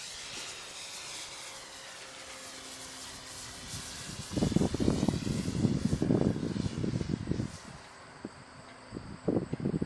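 A Guanli FW 190 radio-controlled model plane flies in windy weather, its engine a faint hissing drone that swells into a louder, gusty rush as it passes nearer, with wind buffeting throughout.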